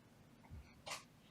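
A dog gives a single short, faint sneeze after a brief snuffle, in a quiet room.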